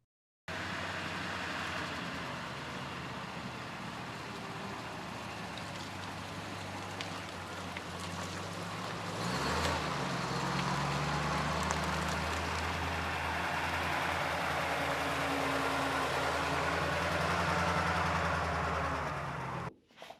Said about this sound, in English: let me show you how this car was actually driving